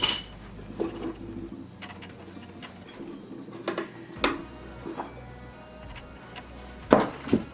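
A cookware set of a frying pan, a bowl, a larger pan and a cover is handled, giving scattered metallic clinks and taps over a quiet room, with a few sharper knocks.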